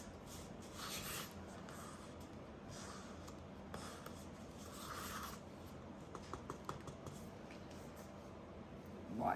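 Silicone mold mix scraped and stirred inside a cup, quiet repeated rubbing and scraping strokes up close with short pauses between passes and no talking.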